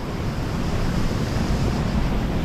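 A small waterfall on the Zrmanja river, heard as a steady, close rush of falling water with some wind buffeting the microphone.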